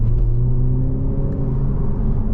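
A 2023 BMW Z4 30i accelerates with a loud, steady low engine drone and rumble heard from inside the cabin, holding even for a couple of seconds.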